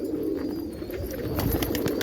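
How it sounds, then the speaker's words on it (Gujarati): Pigeons coo in a low, steady murmur close by, a continuous soft burbling with no talk over it. "કબૂતર છે ને"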